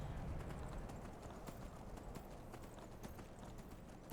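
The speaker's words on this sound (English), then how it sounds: "If I call my horse, he'll call his horse, and let's get on with it." Horse hooves clip-clop steadily in the video game Skyrim, an even rhythmic run of hoofbeats over a continuous outdoor rumble, moderately close throughout.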